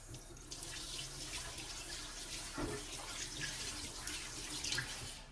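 Water runs steadily from a kitchen tap while vegetables are rinsed in a sink for homemade pancit. The splashing hiss is continuous and close, with a brief louder gush midway and no talking.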